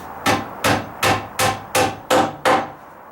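A hammer drives a fat joist hanger nail through a joist hanger into a wooden ledger board on a deck repair, with seven sharp, evenly spaced, loud blows close by.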